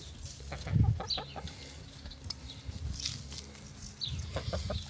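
Chickens eating snow peas give soft clucks and low murmuring calls close by, with occasional louder squawks and faint pecking over a quiet outdoor background.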